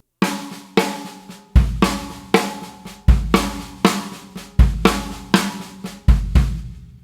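A drum kit plays a right, left, kick pattern, with two crisp hand strokes on the drums followed by a deep bass drum thump, repeating steadily, loud and close.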